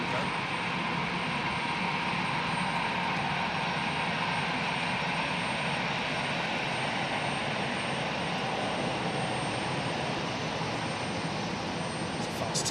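Airliner taxiing briskly at Hamburg Airport, a steady broadband jet engine roar that stays loud and unbroken throughout.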